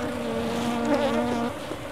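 Honey bees buzz steadily around a hive at a honey farm, a droning hum with several insects overlapping and no voices.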